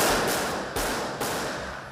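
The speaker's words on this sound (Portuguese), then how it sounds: "Vários tiros aí." Gunfire during a shootout between civil police and attackers in the Maré favela complex in Rio's north zone, heard from inside a bakery: three loud sharp shots spaced through two seconds, each followed by a long echoing decay.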